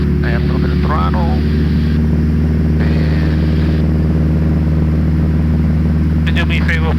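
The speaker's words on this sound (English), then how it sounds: "So we're going to add a little bit of throttle." A light airplane engine drones loud and steady in a left turn, rising a little as throttle is added, with people talking over the cabin noise.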